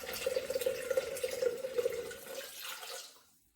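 Cold filtered water pours into a Thermomix bowl in a steady splashing trickle for about two and a half seconds, then tapers off into silence.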